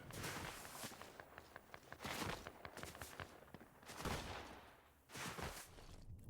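Gunfire in the shooter game EOMZO, heard as bursts of rapid shots mixed with quick footsteps, loud and uneven across several seconds with short pauses between volleys.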